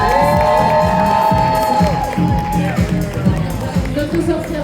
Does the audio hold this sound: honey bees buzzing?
no